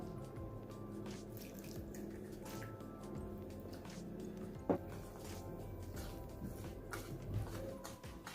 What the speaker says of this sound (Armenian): Քիչ-քիչ ավելացնում ենք ջուրը և խառնում ենք։